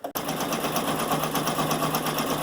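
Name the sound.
embroidery machine stitching satin stitch on applique design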